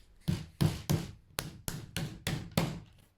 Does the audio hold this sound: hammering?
yes